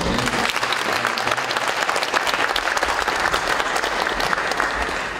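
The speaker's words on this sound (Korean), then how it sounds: "큰 박수를 주세요" Sustained, loud applause from a large crowd honouring long-serving teachers and staff at a girls' high school anniversary ceremony, dense and steady for the whole stretch.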